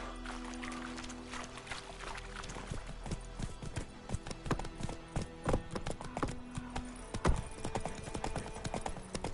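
Hooves of Roach, Geralt's horse in the video game Witcher 3, clip-clop in a steady, uneven gait. The close, fairly soft thuds run continuously over a quiet outdoor background.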